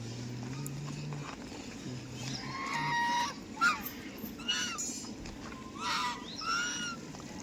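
Ducks quack and honk in short bursts, several calls overlapping, against a low outdoor murmur.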